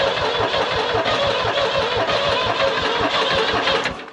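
A New Holland skid steer diesel engine that has sat for a couple of days cranks and catches, then runs at a steady, loud, rapid mid-pitched chug before easing off at the end.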